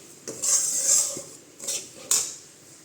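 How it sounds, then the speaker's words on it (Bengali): A spoon scrapes and clatters against a hot kadai while semolina is stirred, giving several bright metallic strokes separated by short pauses, close and fairly loud. "কড়া তো আমার গরম আছে ওই জন্য আমি এইভাবে নাড়ছি"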